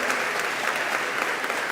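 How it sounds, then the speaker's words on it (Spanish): Dense, steady applause from a Catholic gathering in Equatorial Guinea fills the whole moment, even and sustained without a break. "Un aplauso para ellos."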